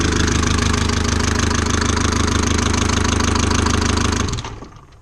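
An old Mercedes 190d diesel engine runs with no key in the ignition, a loud, steady, clattering idle that stops abruptly near the end when it is shut off by the fuel cutoff valve, leaving near silence.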